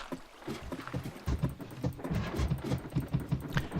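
A rapid series of soft knocking, clattering footfalls from climbing a ladder in modded Minecraft, repeating steadily for a few seconds at moderate volume.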